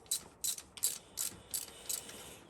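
A ratchet wrench clicks in six quick, evenly spaced bursts of sharp metallic ticking while backing out a car's spark plug, close and fairly crisp against a quiet background.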